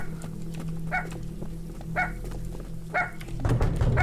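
A dog in a video game barks three times at about one-second intervals, moderately loud over a low, steady game background, with a thump near the end.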